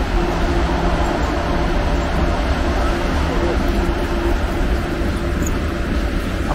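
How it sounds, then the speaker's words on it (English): An old Soviet-era electric cargo train rolls past as a steady, loud rumble with a faint sustained tone, continuous for several seconds under light background noise. "here's one of these old electric trains."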